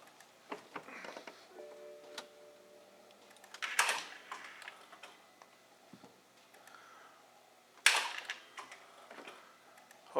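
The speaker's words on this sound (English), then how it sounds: "It's the sound of the starter trying to engage." Starter motor on a 2013 BMW X1 with an N20 engine that will not turn over, giving brief clicks and two sharp, loud engagement bursts spaced a few seconds apart, with quiet gaps between.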